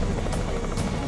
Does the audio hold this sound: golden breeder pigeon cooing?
no